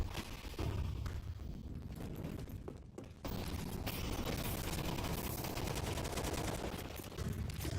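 Rapid gunfire rattles through a Counter-Strike esports match, dense overlapping shots and bursts, loud and continuous apart from a brief dip near the middle, with no speech.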